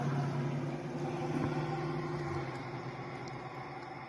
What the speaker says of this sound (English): Traffic is starting to pick up.